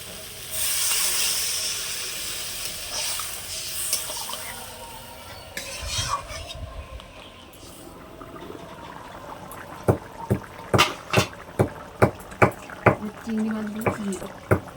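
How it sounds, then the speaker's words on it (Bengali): Water rushes into a pan of spiced pointed gourd and potato curry with a loud, steamy hiss, followed by clattering stirring and rhythmic metallic taps against the pan. "এবার আমি জল ঢেলে দেবো"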